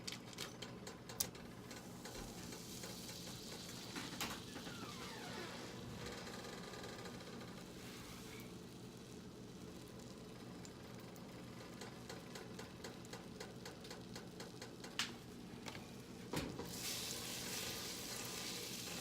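Three tablespoons of butter melting in a pan for seafood alfredo, giving a soft, continuous sizzle with occasional light clicks and taps, faint and with no talk.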